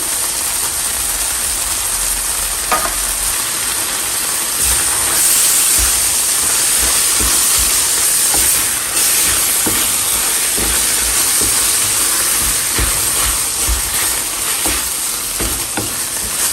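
Canned tuna frying in a pan with tomato, onion and cilantro gives a steady, close sizzling hiss, broken by scattered clicks and scrapes from stirring, with no talking.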